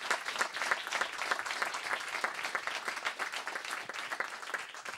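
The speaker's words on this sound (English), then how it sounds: "I'd just like to please give a round of applause to our speakers, Patrick McCorry and Daniel Gasteiger" Applause for the speakers at a blockchain e-governance event, crisp scattered clapping from a modest audience, fairly faint and steady for the whole stretch.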